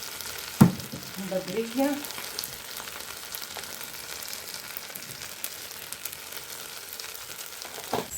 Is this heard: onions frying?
yes